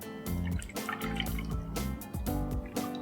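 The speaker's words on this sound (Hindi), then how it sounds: "गैस शुरू करते हैं और ये सूप को पैन में डाल देते हैं।" Strained tomato soup is poured from a vessel into a pan on the stove, giving a faint, close sequence of liquid splashes and glugs in uneven bursts.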